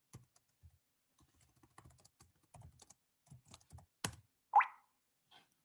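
Computer keyboard typing in MATLAB, scattered soft key clicks in short irregular bursts with one sharper tap near the end, close and quiet with no talk.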